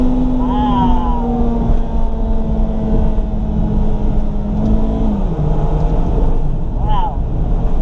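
A 2002 Toyota Celica GTS with an automatic transmission in manual mode downshifting, the steady loud engine drone stepping its pitch as gears change, with cabin road noise and someone talking over it.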